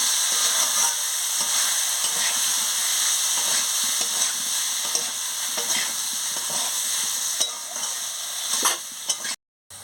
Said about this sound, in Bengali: এবার আমি ওল আর আলুটা দিয়ে দিচ্ছি দিয়ে ভালো করে কষিয়ে নিচ্ছি